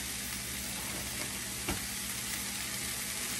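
Peppers frying in a pan, heard as a continuous even sizzle and hiss with one brief clink partway through, close and quiet.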